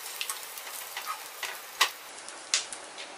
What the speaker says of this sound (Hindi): गोंद को इसी तरह से मैंने फ्राई कर दिया है।